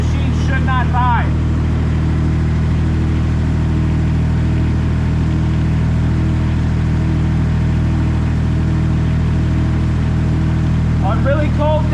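A Giant 1200tele machine's engine warms up with the throttle held, giving a loud, steady, droning hum that runs unbroken throughout, with a person's voice briefly at the start and end.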